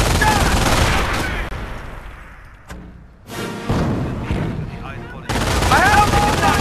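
Gunfire in the Company of Heroes World War II strategy game at Carentan, dense rattling bursts of shots and battle noise that thin out briefly midway before a loud volley returns.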